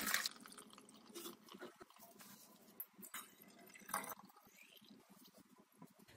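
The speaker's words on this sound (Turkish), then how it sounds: "Kalan sirkeyi de süzmeye devam ediyorum." Homemade red hawthorn vinegar dripping through a strainer, soft irregular drips and trickles close by, faint and quiet against a low background.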